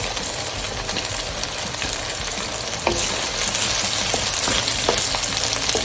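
Garlic sizzling hard in a hot pan as it is stir-fried for chicken noodles, a close, steady crackling hiss with occasional sharper pops and stirring clatter.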